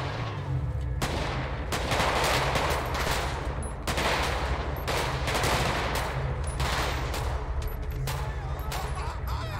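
Continuous machine gun fire in the video game GTA V during a zombie mode, rapid overlapping bursts with brief pauses between volleys, loud and dense with no voices.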